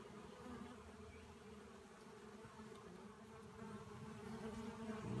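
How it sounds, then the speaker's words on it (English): Steady, dense buzzing of many honeybees close by at a hive entrance, a continuous hum that swells slightly toward the end. "so now the bees will have to come through"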